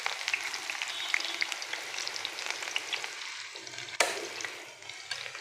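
Onions fry in hot oil for a homemade onion hair oil, giving a steady close crackling sizzle with small pops throughout and a brief stirring clatter near the end.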